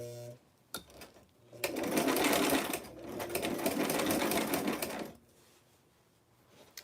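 A sewing machine stitches a vintage 90s party dress with princess seams, running in a loud, steady whir for several seconds before stopping, with quieter handling sounds before and after.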